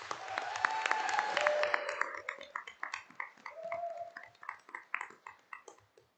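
Clapping at a school board meeting, mixed with a dog's whimpering yips and howl-like cries, tapering into scattered individual claps toward the end.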